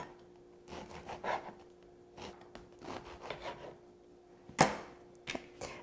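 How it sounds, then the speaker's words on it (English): A bread knife sawing through a baguette, several short rasping strokes in bursts with a sharper crunch near the end, close and quiet. "I'm going to use our our bread knife, and I'm just going to cut off that end piece and then cut it into little slices"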